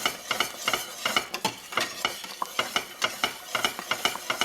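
A spoon stirs salted butter caramel with fleur de sel in a pan, making quick, rhythmic scraping strokes that repeat steadily. The sound is close and fairly quiet, with no voices.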